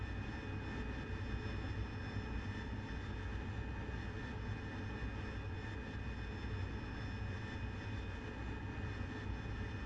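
A Harrier jet at night gives off a steady, distant engine roar with a faint high whine running through it, continuous and fairly quiet throughout.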